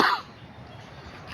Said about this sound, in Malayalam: ചുമയുണ്ട്, ചുമ മാറിയിട്ടില്ല എൻ്റെ ഇതുവരെ.